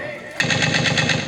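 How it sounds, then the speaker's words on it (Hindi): A gunfire sound effect in a Chhattisgarhi stage drama erupts abruptly after a quiet moment as a rapid, loud, machine-gun-like burst of evenly spaced shots that continues steadily to the end. "अरे इधर फायरिंग चल रहा है"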